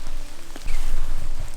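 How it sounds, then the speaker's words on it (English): Rain patters outdoors on an exposed climb, soft at first and then heavier, a dense close hiss of drops hitting surfaces with no talk. "And now it starts raining."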